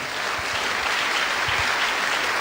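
A church congregation applauds in a dense, sustained burst of clapping that fills the room evenly from start to finish.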